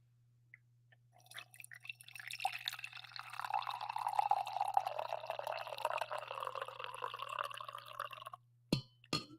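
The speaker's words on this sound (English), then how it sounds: "I believe I need to pour some coffee" Coffee pours steadily into a mug, a close rising gurgle of liquid filling the cup that builds over several seconds, then stops with a couple of small knocks at the end, against an otherwise quiet room.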